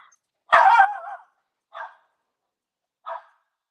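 A dog barks in the yard: one loud, close bark, then two shorter, softer barks spaced about a second apart, with silence in between.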